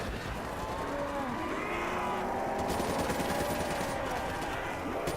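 Gunfire in the video game Call of Duty: Black Ops III, continuous loud bursts of automatic fire and shots over a dense battle din with game music, dropping briefly then resuming.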